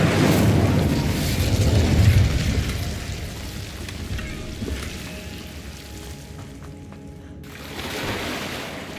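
Incendio fire spell cast in Hogwarts Legacy, a dense roaring whoosh of flame with low rumbling body, loud at first and easing off, then swelling again near the end.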